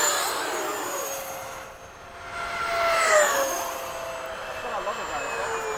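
An FMS 80mm Hawk RC jet makes a low downwind pass at a flying field, its turbine whine rising and falling as it sweeps by at moderate distance, with other aircraft droning in the background.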